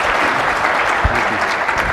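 Conference audience applauding panelists at a general session, a short, dense wash of many hands clapping at steady loudness.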